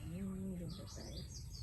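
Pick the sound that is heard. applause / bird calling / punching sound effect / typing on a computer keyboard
bird calling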